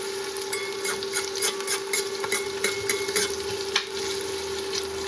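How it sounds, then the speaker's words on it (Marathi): Onion frying in oil in a pan while being stirred, a steady bright sizzle with scraping strokes of the spoon in a quick, uneven rhythm, close and alone without talk. "आपण जरा छान कांदा शिजवून घेऊया."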